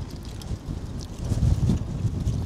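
Strong wind gusts outdoors at Wadi Mareekh near Jeddah, Saudi Arabia, rumbling and buffeting the microphone in uneven surges, with no one speaking.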